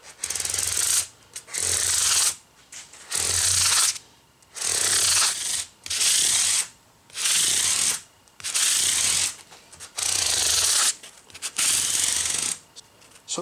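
A sanding sponge with fine 1800-grit micromesh is rubbed over the frets of a Les Paul Junior-style guitar, giving a close, raspy scrubbing that repeats in about nine regular strokes, each separated by a brief pause.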